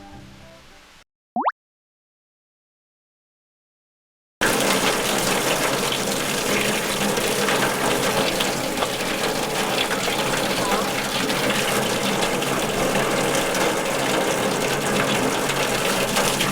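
Spring water gushes forcefully from a spout, a loud, continuous, dense rushing splash that starts abruptly after a brief quiet pause and carries on steadily.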